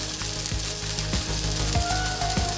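A tomahawk ribeye steak slow-roasting on a barbecue, a loud steady sizzle with rhythmic ratcheting clicks from the grill mechanism repeating about twice a second.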